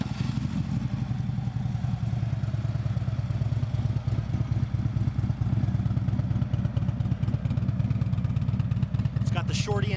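A Harley-Davidson CVO Ultra Classic FLHTCUSE4 with about 24,000 miles idles steadily, a low, loping rumble with light mechanical clatter that continues evenly throughout.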